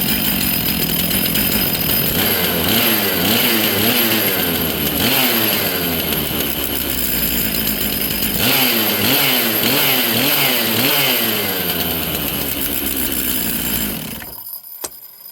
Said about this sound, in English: Full choke. Let it warm up.